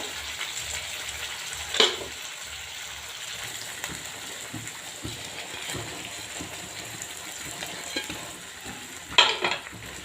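Paneer is stirred into a simmering gravy in a pan, with a soft continuous sizzle and bubbling under repeated scraping strokes and a couple of brighter clinks of a spoon against the pan.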